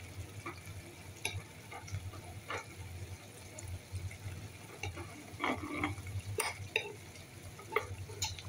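Hotdogs fry in a pan with chopped chili, a steady low sizzle under scattered scraping stir strokes from a utensil, close and moderately loud, with clicks and clatters picking up toward the end.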